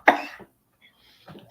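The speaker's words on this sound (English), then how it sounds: "laughing so hard she's coughing" A woman coughs hard from laughing, a sharp burst of coughs up front, then a quiet gap and a softer throaty cough near the end, close and alone without talk.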